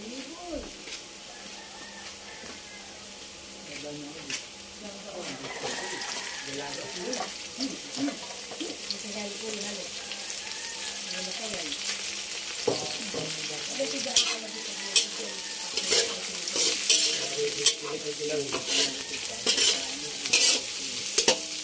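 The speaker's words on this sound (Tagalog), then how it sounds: "Ito ko ay nagigisa na ng bawang at sibuyas." Garlic and onion sautéing in a pan for Bicol-style pancit bato, a steady sizzle broken by repeated stirring and scraping clatter that grows busier toward the end.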